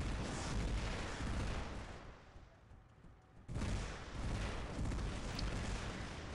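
Aphid missiles lobbed at enemies in War Robots make a dense, loud rumbling barrage of launches and impacts, which drops away briefly mid-clip before roaring back.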